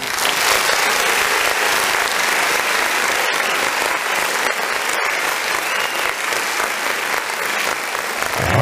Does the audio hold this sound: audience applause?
yes